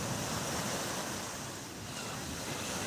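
Black Sea surf breaking steadily on the shore with wind buffeting the microphone, a continuous loud broadband wash of water and gusts, no voices.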